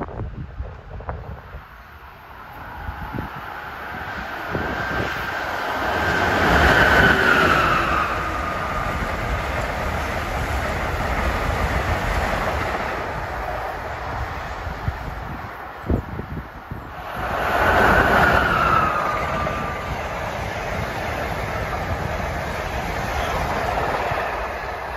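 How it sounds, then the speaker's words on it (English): A train rushes through a station on the Northeast Corridor as a broad, steady rumble with heavy wind buffeting. Two brief tonal swells rise and fade, and no one speaks. "Train coming in on track B."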